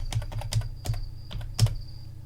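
Fingers typing on a computer keyboard, a quick irregular run of light clicks and taps close by, with a faint steady background hum and no voices.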